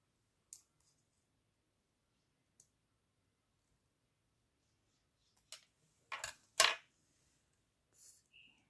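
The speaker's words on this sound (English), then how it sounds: "I'm going to cut off some of this." Part of a see-through bookmark is cut off, producing a few sharp, close snipping clicks, isolated at first and then a quick cluster, over near silence.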